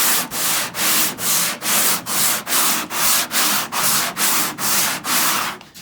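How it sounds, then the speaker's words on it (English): Rhythmic dry sanding of a previously repaired panel with a JTCAN Industries 12-inch triangle sanding block and 320-grit paper: about fourteen even back-and-forth strokes, loud and close, with no voices. "So you could sand down a panel"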